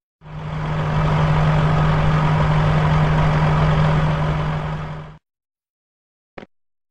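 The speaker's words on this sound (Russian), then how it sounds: "Бульдозер." A bulldozer engine rumbles steadily at close range for about five seconds with a strong low hum, then cuts off abruptly, followed by silence and a brief click.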